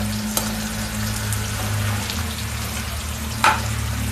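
Paneer cubes fry on a high gas flame until browning, giving a continuous close sizzle with a low hum beneath and a couple of sharp utensil taps, one near the end.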